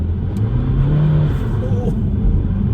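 BMW 125d diesel car accelerating at full throttle, a loud close engine drone rising in pitch with a steady rumbling roar, with talk over it.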